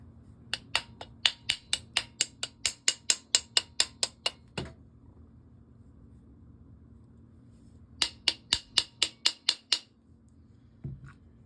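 Anti-walk pins are tapped into a firearm trigger group, giving a quick run of a dozen or more sharp metallic clicks, a pause, then a second shorter burst, close and crisp with no talking.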